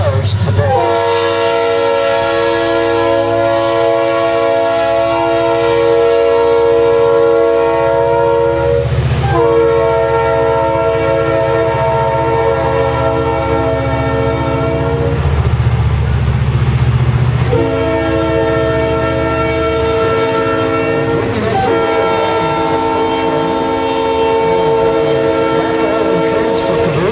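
Santa Fe locomotive ATSF 92 hauls a train of obsolete freight cars at a railway museum in Union, Illinois, its horn sounding in long loud blasts over a steady low engine rumble and rolling wheels.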